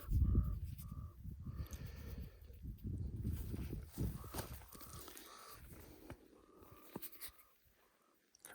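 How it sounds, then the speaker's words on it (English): Crows caw over a field in a quiet outdoor setting, with several short, faint calls repeating at intervals over low rustling. "Crows are going crazy"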